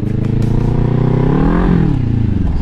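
Motorcycle engine running steadily up close, its pitch rising and then dipping as the rider shifts up through the gears.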